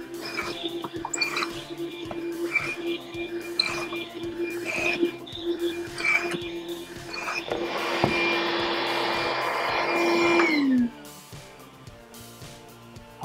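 A pocket hole machine drills plywood for a cart. A steady motor whine with rhythmic ticking builds into a louder, harsher drilling burst, then winds down abruptly near the end.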